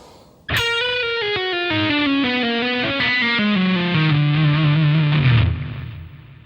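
Distorted electric guitar plays a riff at a slow tempo, a sharp loud attack followed by a descending run of sustained notes that ends on a low held tone before fading, with no talking.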